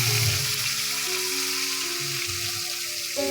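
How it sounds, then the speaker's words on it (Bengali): Bitter gourd (karela) fries in a pan with a loud, steady close-up sizzle and hiss under a faint low hum. "আজ করলা ভাজবো, কারকল ভাজবো।"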